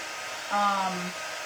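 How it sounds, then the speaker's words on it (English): A hair dryer switches on briefly to dry chalk paste on a craft project, a short steady whirring hum lasting about half a second before cutting off, close and moderately loud. "Remember, we wanted to dry the paste."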